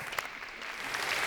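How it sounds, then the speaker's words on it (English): Audience applause at a career talk session as a presenter is introduced, a brief, fairly soft burst of clapping from a small crowd heard alone. "Please give her a round of applause."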